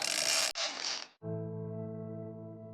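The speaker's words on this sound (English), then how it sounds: "Finally got mono back on the reel." A fishing reel winds monofilament line back onto the spool while fighting a giant ocean fish in cold water. A burst of rough rushing noise gives way to a steady, close mechanical whir that holds to the end.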